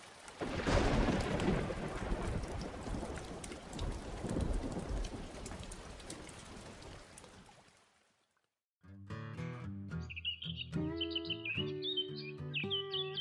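Heavy rain pours down with rumbles of thunder, then fades out into silence after about eight seconds, and music follows.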